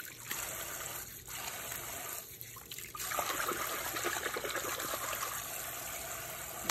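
Tap water runs steadily while shampoo is lathered into a hair extension ponytail, with faint squelching and wet handling sounds under the flow and no talking.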